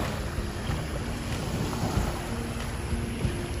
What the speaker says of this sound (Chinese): 你是可以听得到海浪声的哦